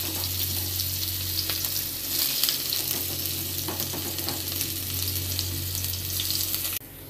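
Chopped onion, dried red chilli and bay leaf sizzle in oil that has just fried lentil dumplings, a steady close hiss with faint stirring clicks that drops off abruptly near the end.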